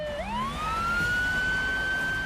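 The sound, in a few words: police car siren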